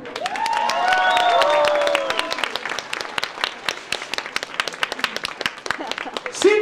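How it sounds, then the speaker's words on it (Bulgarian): An audience at an 18th-anniversary dance show for the Los Pambos Dancing Center bursts into dense, sustained applause, with whoops and a shouting voice rising over the clapping early on. "Силни аплодисменти!"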